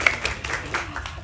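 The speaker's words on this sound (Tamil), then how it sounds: "கைத்தட்டம்" Audience at a Tamil film event breaking into applause, a brief burst of many hands clapping together at moderate loudness, close and dense.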